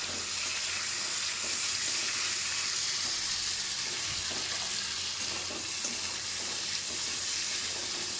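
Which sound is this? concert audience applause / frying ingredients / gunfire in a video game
frying ingredients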